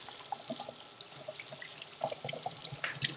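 Water runs steadily from a kitchen sink tap while hands are rinsed, a soft continuous splash with small clinks and drips, fairly close, no talking.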